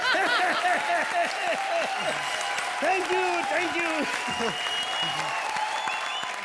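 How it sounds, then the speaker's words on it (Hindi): Studio audience at a comedy show breaks into sustained applause mixed with some chuckling, while a voice on stage talks over the clapping. "तालियां।"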